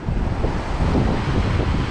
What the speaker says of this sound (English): some of the waves are crashing over the rocks